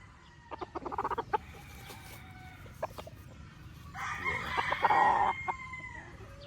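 Gamefowl roosters, including a white general stag, cluck in short bursts, then one lets out a loud, drawn-out crow nearby before things quiet down.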